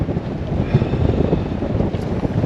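Strong wind blowing steadily across the microphone on the River Humber shoreline during winter cod fishing, a constant loud rushing roar with gusty swells and no voices.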